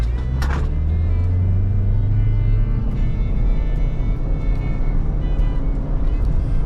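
A GWM Haval car engine roars steadily at high revs as the vehicle accelerates at full throttle on a track, with road rumble and a voice speaking briefly at the start.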